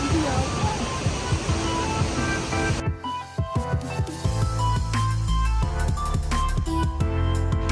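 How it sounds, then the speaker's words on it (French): Waterfall at the foot of a cascade among the rice terraces of Batad, Banaue, Philippines, a steady rushing spray of water throughout, with a brief drop in the roar partway through before it swells back loud and close. "Et voilà, on est au pied de la cascade."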